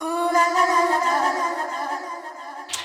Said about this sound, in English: the next sound we got is this vocal hit